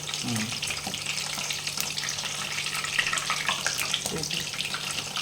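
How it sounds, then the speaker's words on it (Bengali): Hot oil spattering around freshly washed, still-wet pumpkin flowers frying for crispy fritters, a busy crackling sizzle with sharp pops throughout, steady and close. "যে ফুলগুলা ধোয়া হয়েছে তো, যে জলটা যে ছিল ওই জন্য এত আওয়াজ করছে"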